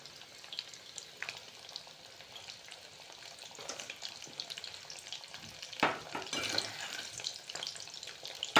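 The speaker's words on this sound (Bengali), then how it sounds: "অল্প অল্প করে কর্নগুলো দিয়ে আমি ভেজে নেব" Baby corn fries in hot oil for chilli baby corn, giving a continuous soft crackling sizzle with scattered pops and a few louder stirring scrapes toward the end.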